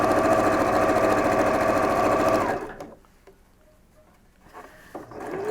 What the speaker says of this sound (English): we're sewing on the outside of those black lines. We're sewing with black thread.